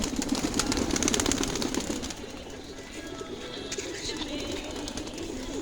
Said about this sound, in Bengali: এটা হচ্ছে আমাদের বাসার কবুতর